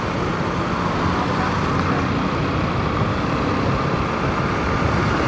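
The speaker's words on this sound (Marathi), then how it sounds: "आज तर इथं कमी भेटली ट्रॅफिक, नाही तर डेंजर ट्रॅफिक होती." Steady road traffic roars around an evening motorbike ride through Pune between Magarpatta and Dhanori, with passing cars and heavier vehicles, a constant loud wash of engine and tyre noise.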